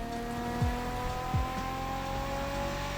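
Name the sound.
Nissan GTR race car driving in video game The Crew Motorfest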